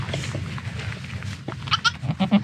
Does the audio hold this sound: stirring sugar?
no